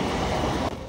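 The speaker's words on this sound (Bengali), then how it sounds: "আমাদের ট্রেন এখন 3:54 বাজে হিসাবে বাগনান বেরিয়ে যাচ্ছে।" Passenger train departing Bagnan, heard from inside a crowded carriage: a steady loud rumble of wheels and running noise, continuous with a slight drop near the end, no talk.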